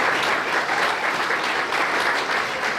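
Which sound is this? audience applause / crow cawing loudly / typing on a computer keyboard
audience applause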